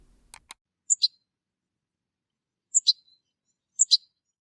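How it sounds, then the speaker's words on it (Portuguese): Goldfinch song from a bird sound simulator, heard as three spaced pairs of quick, bright twittering notes after a couple of soft clicks, clear and isolated against silence. "o pintacilgo"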